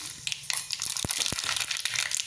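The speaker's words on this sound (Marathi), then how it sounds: "दोन चमचे तेल गरम केलेलं आहे मी त्याच्यामध्ये टाकणार आहे जिरे" Cumin seeds hit two spoonfuls of hot oil for a tadka, giving quick, close, crackling pops and a sputtering sizzle that lasts a couple of seconds.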